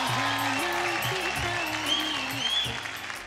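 Loud applause and cheering from a studio audience at a televised singing competition, with sustained musical tones playing beneath the clapping throughout and fading toward the end.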